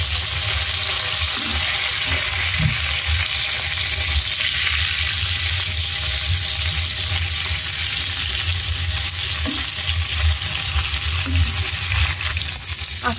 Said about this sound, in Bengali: কই মাছের মশলা মেখে ভাজতেছি।